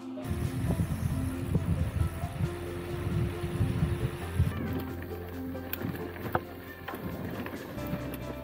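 Boat engine rumbling steadily at Veshvi jetty in coastal Konkan, a ferry bound for Bagmandla, with a low continuous drone, some water and wind noise, and faint background voices.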